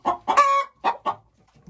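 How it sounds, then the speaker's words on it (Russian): Several short clucks and a drawn-out squawk from laying hens nearby in a henhouse, in uneven bursts followed by quiet. "Сейчас я зашла в курятник как раз в самое время, когда курочки несутся."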